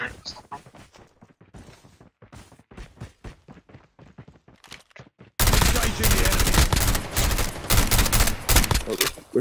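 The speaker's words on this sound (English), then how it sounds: "We're shooting it behind us." Video game gunfire: sparse, spaced shots and impacts at first, then a dense, loud burst of rapid automatic fire for the last few seconds.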